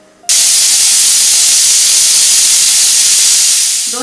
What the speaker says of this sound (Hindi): दो सीटी हो चुकी है, अब हम गैस को बंद करेंगे, कुकर को ठंडा होने देते हैं।